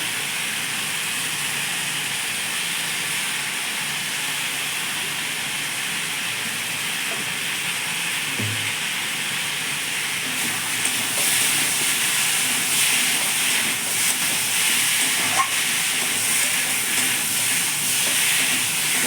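Vegetables frying with chili powder and cumin powder while being stirred, a loud continuous sizzle and hiss holding steady throughout, with faint scattered scrapes and clicks.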